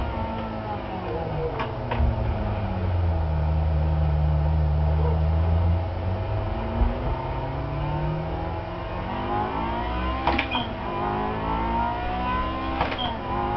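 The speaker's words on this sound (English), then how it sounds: "I'm going to purposely redline my engine just to show you guys what not to do." Manual-transmission car engine revved hard in neutral up toward redline, a loud sustained engine drone with rising and falling pitch sweeps, close and alone without talk.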